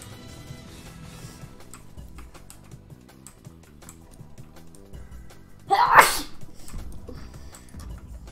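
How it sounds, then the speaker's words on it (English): A single sharp sneeze bursts out midway, loud against a quiet background of faint music and soft tapping. "Why am I sneezing so much?"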